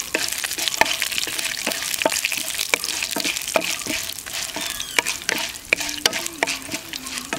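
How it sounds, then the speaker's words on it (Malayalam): Chana dal and five or six dried red chillies fry in a pan with continuous crackling and sizzling, broken by frequent quick spatula scrapes and taps, close and fairly loud, with no talking. "അപ്പോൾ കടലപ്പരിപ്പും ഉണക്കമുളകും നന്നായിട്ട് വറുത്തു"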